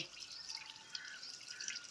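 Shower water sprays steadily over a puppy, a close, continuous hiss of falling drops and splashing with no voices.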